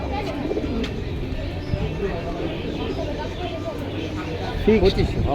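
High-flyer pigeons coo at a busy pigeon market in Jinjira bazar, with soft repeated coos and one clearer coo near the end, under steady nearby talk from people at the stalls.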